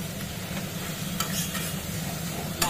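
Spice paste for a Bengali fish curry is stirred and fried in oil, giving a steady close sizzle with occasional scraping strokes of the spoon in the pan, with no talk.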